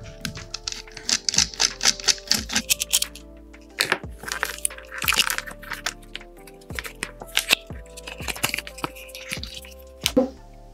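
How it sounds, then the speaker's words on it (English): A screw is removed from the plastic heater casing of a DeLonghi Magnifica coffee machine, with a rapid series of close metallic clicks, taps and small rattles, then brief pauses and more clicking. "Now I separate the resistance from the plastic casing by removing the bottom screw."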